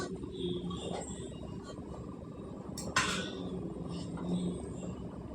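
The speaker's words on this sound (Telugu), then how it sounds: "ఇప్పుడు ఇందులో అర కేజీ బీరకాయలండి వేసుకుందాం" Half a kilo of chopped ridge gourd pieces tipped into a pot of half-cooked toor dal: one brief soft clatter and splash near the middle, set against a steady low kitchen rumble and faint clinks.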